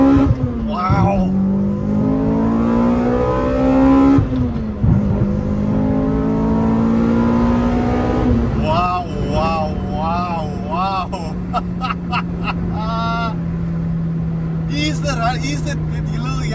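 Toyota TRD RunX engine revving hard and climbing through the gears, loud and close, with rising pitch sweeps broken by brief dips at each shift; a voice talks over it at times.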